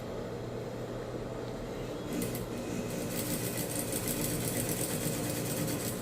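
A sewing machine running steadily while topstitching a bag, a continuous mechanical whirr that grows slightly louder and busier partway through, close and with no voices.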